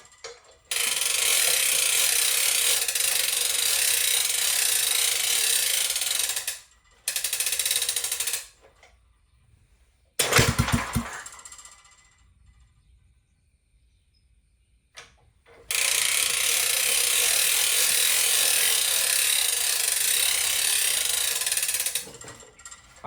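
A 1950s garden tiller engine fitted with a Mikuni carburetor is hand-cranked in long bursts of fast ratcheting, several seconds each with pauses between, and one brief clunk midway.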